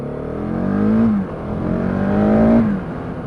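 A 2016 Husqvarna 701 Supermoto single-cylinder engine revs up twice in close succession, pitch rising under acceleration then dropping between pulls, loud and nearby with wind rush; no speech.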